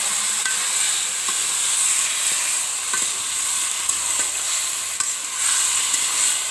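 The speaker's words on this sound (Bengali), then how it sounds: "তারপর আমরা দিয়ে দেব ম্যারিনেট করে রাখা মাংস।" Marinated chicken, about a kilo, hits a hot pan over a clay stove and sizzles loudly and steadily, with a continuous hiss and occasional faint stirring clicks.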